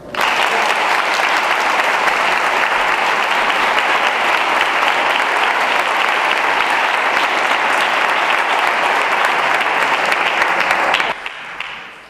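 Loud, sustained applause from a crowd at a Podemos political rally fills the space evenly for about eleven seconds, then cuts off abruptly, leaving a brief quiet tail.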